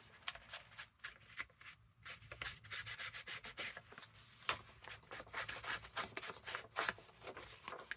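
Walnut stain ink being rubbed onto a grungy woodland mixed-media journal page, a steady papery scrubbing of short repeated strokes, close and fairly quiet, with no voices.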